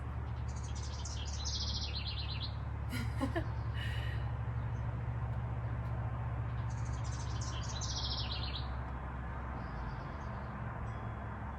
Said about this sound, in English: Maybe you're listening to those active little birds.